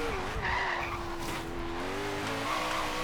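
Koenigsegg race car in Forza Horizon 3 sliding through a corner, its tires skidding and squealing steadily for about three seconds over a continuous high-revving engine tone, loud and close.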